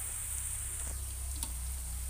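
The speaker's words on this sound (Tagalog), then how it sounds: "Lutuin lang ang sili ng maigi." Chili peppers frying in a pan give a steady, soft sizzle that runs evenly throughout, with a faint tick or two and no talking.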